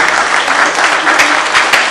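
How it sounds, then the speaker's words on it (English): An audience applauds loudly and continuously at a moderated panel talk on teams, successes and failures, with dense clapping that holds steady for the whole short stretch. "Give him a round of applause."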